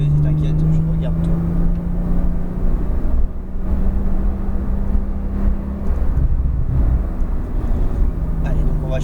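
A Porsche 911 Turbo S engine drones loud and close inside the car on a circuit, a steady throaty tone holding pitch as it pulls through third gear, under constant road roar.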